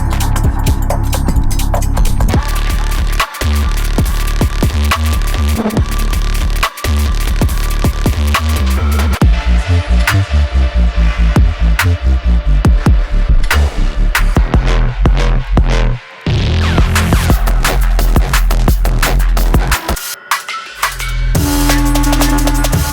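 Dark UK underground bass loops from a UKG, 140 and DNB sample pack: loud, dense, continuous electronic bass with heavy low end, punctuated by brief drops and edits, with no voices.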